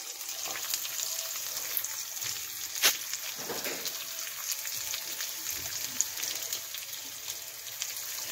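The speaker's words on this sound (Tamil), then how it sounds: "எல்லாத்தையும் ஒன்றா போட்டு வதக்கிடலாம்" Small and large onions with garlic and ginger sautéing in oil in a pan for a mushroom semi gravy, a steady close sizzle with occasional stirring scrapes and a sharp clink, no talk.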